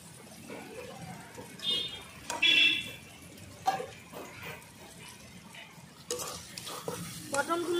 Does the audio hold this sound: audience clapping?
no